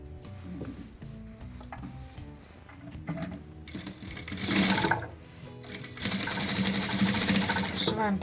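Sewing machine stitching fabric pieces for a bubble puff quilt, bursts of rapid mechanical whirring that start, pause and resume, with someone talking throughout.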